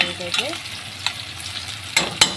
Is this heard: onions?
yes